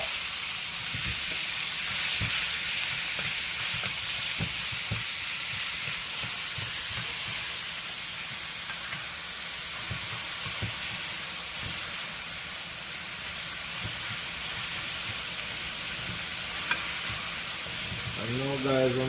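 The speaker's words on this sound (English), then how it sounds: "now we're just going to add our callaloo" Jamaican callaloo greens frying in a pan with bacon, a loud continuous sizzle and hiss of steam, with repeated scraping of a utensil stirring throughout and a brief voice near the end.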